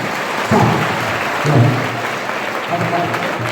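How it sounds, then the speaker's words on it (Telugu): Students applaud their teachers at a motivational event in a residential school hall, a steady sustained clapping throughout with slightly louder swells, no voices over it. "గట్టి క్లాప్స్ గట్టిగా"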